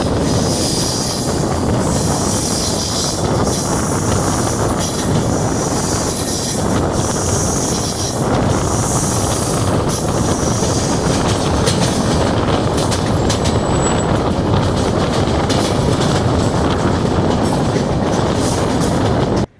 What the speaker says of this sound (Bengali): হিমগিরি এক্সপ্রেস গাড়ি আমাদের সঙ্গে যাবে